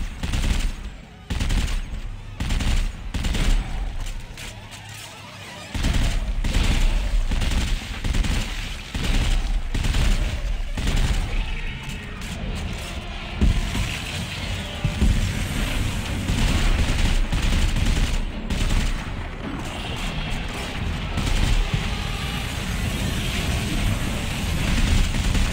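Rapid weapon fire in the sci-fi survival horror game Dead Space 3, dense repeating bursts of shots in quick clusters with short gaps, continuing through most of the stretch while a player talks at times.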